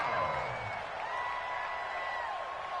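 A crowd in the Madden 20 football video game builds toward a big third down, a steady, dense roar of cheering that holds at an even level throughout, with a few sustained tones running over it.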